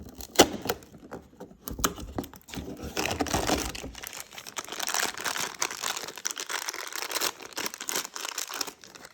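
Cardboard crinkles and tears as the twelfth window of a Simpsons Treehouse of Horror advent calendar is pried open, a run of close, irregular rustles and scratchy rips with brief pauses between them.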